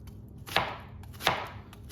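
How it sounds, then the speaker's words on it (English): Two crisp knife strokes slice through a whole onion on a cutting board, spaced under a second apart, close and clear against a quiet background. "So cut the whole onion up."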